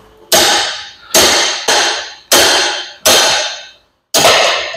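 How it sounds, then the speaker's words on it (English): Six sharp metallic hammer blows knocking out the gland of a John Deere hydraulic lift cylinder during a reseal, loud and close, spaced unevenly with ringing decay after each strike. "now we're going to hammer it out"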